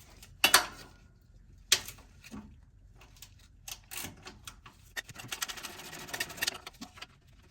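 Ratcheting and metallic clicks from a wrench loosening a 12mm bolt on a frame bracket of a Toyota 4Runner with a 5VZ-FE engine, coming in short bursts with pauses between, ending in a denser run of rapid ratchet clicks.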